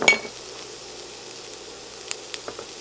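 Minced garlic and onion cooking in about a tablespoon of peanut oil give off a soft, steady sizzle, broken by a few light utensil clinks.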